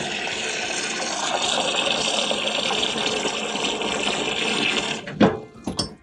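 Tap water runs steadily into a container for about five seconds, refilling it after a rinse while preparing a livestock enclosure, then cuts off with a couple of short splashes and clunks near the end.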